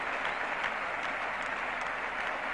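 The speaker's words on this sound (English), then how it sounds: "Been applauded all the way in by the England team" Steady applause from the England team and crowd greets Viv Richards as he walks in after his 1976 test innings, a continuous dense clatter of clapping with no voices over it.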